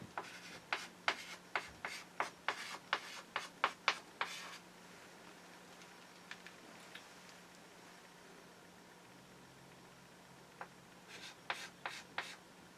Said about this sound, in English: so now I'm going to write this down again